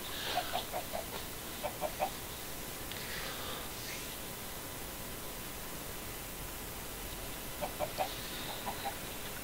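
Chickens in the Minecraft Stoneblock video game cluck in short clustered bursts, faint over a constant hiss of background noise, with quiet gaps between the groups of clucks.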